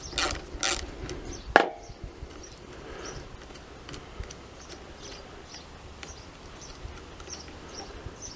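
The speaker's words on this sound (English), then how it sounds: "undo the bolt" An 8mm spanner working a bolt loose on a Honda CT110 while replacing an indicator stem, a couple of sharp metallic clanks at the start followed by a soft, regular ratcheting clicking that continues at low level.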